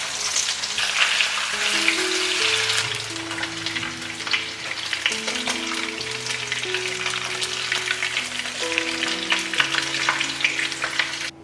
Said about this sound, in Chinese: 然后把鱼块放进来煎，油温呢要稍微高一点